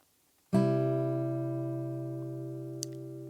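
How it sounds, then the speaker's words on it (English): Three guitar strings plucked at once and left to ring, a single clean chord that sustains and slowly fades over a few seconds, close and alone after a moment of near-silence. "we're going to pluck those 3 strings at the same time and let them ring out"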